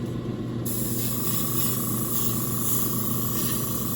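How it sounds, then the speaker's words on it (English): A spray can or airbrush hisses steadily while laying a light dusting of paint over a batch of miniature figures, one continuous close spray burst lasting several seconds. "I'm just going to do a light dusting of everybody, some of the paint that remains, just to even out the colors."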